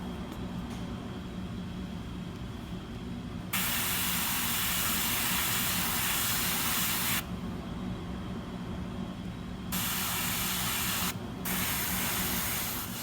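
An aerosol can of ultramarine spray paint hisses onto a painting in three long, even bursts separated by short silences, close and fairly loud.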